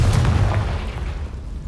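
A Confringo spell blast booms in Hogwarts Legacy, a short, deep explosive thump with crackling debris tailing off quickly, loud and up close, without any talking.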